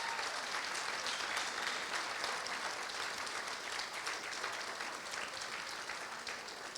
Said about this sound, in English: Can you clap for this lady?